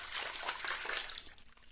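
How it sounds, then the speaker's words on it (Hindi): Shampoo is stirred into water in a bowl, making a brief, close, watery sloshing and swishing that fades toward the end. "देखिए यहाँ हमने पानी को मिक्स कर लिया है।"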